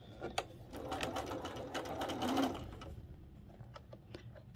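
Close sewing machine runs quickly over pieced quilt fabric, a dense rapid needle rattle that swells for a few seconds and then eases off into scattered clicks.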